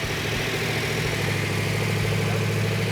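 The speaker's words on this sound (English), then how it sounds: "it fired up and ran really good, really strong" A rebuilt Dodge Challenger V8 engine idles steadily and strongly after being fired up, a continuous deep rumble with a loud, even, pulsing tone and no talking.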